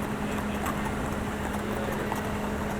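Steady police horses' hooves clip-clopping on hard ground, with a continuous outdoor rumble and a faint hum underneath.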